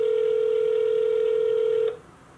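A telephone line gives a steady, loud, unbroken dial tone for about two seconds, then it cuts off into a faint hum, with no voices.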